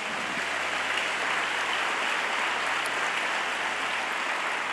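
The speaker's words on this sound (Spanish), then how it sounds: "¿Puede darle palmas al Rey de la Gloria?" Congregation clapping hands together during a Spanish-language church worship service, a dense, steady wash of applause that holds evenly throughout with no voices over it.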